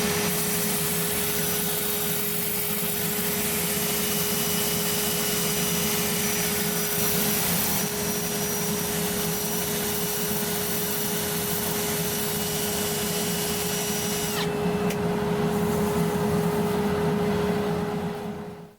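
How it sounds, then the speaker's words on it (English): Power sanding a charred oak whiskey tasting cup produces a steady, loud whirring hum with a constant tonal whine and scratchy friction texture, running continuously close by before cutting off at the end. "what I'm going to do next is finish sanding"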